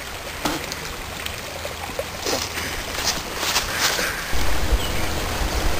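Water from a wild stream rushes and splashes nearby, a steady, fairly loud flow that swells a little toward the end, with no one speaking.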